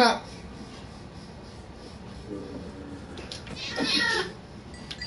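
A Minecraft cat meows in a hardcore survival game, a few short cries over a low background hum, with a louder meow near the end while a voice talks alongside.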